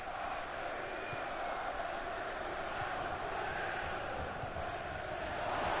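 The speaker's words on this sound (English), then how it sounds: "Spurs crowd sounds good, doesn't it?" Spurs football supporters fill a stadium with a steady, distant roar of crowd chanting and noise, continuous throughout without clear individual voices.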